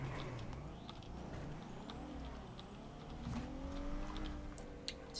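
A Ford Taurus police car in GTA roleplay drives with a steady engine drone and some revving, with a faint tire squeal, heard alone without talk.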